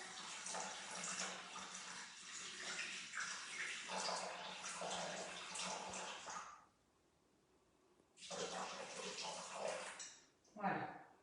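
Water poured into a Thermomix bowl to make a cooking broth, a steady broad rushing stream for about six seconds, a brief pause, then pouring again before a short splash at the end.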